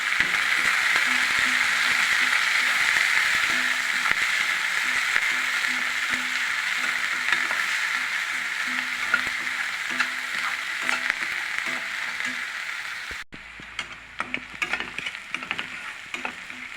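Finely chopped onion and curry leaves frying steadily in a pan, a continuous close sizzle with occasional stirring scrapes, growing quieter and more sporadic near the end.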